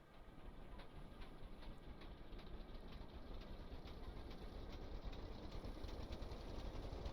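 A modular engine in the game Stormworks runs and winds up, giving a faint, dense, rapid mechanical chatter that grows slightly louder toward the end, with no voices.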